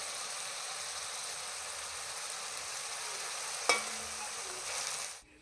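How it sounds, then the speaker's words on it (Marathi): Grated onion frying in hot oil for chicken rassa, a steady close sizzle and hiss, with one sharp clink of a utensil against the pan near the end before the sound cuts off. "कांदा चांगला गुलाबी रंगावर येईपर्यंत आपल्याला तेलात चांगला फ्राय करून घ्यायचा आहे"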